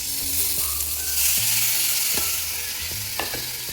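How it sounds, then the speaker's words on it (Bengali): Small chela fish fry in a hot wok on a gas stove, giving a continuous loud sizzle punctuated by a few sharp knocks and scrapes of the spatula against the wok. "এবার কড়াইতে মাছগুলো আমি দিয়ে দেবো।"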